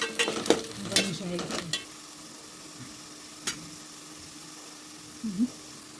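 Chopped onion frying in oil in a pan for a chicken curry, a steady soft sizzle with a few sharp clattering stirs near the start, then a quieter hiss with occasional light scrapes.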